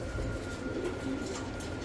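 Pigeons cooing at a pigeon sale centre, a low murmuring coo close by over a dense background hum.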